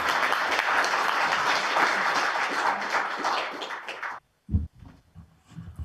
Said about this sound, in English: What about another round of applause for Andrew